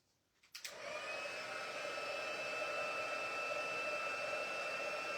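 A heat embossing tool starts up and runs as a steady, loud blowing whoosh with a faint whine, melting crystal clear embossing powder on vellum; a brief click comes first, then the blowing continues alone.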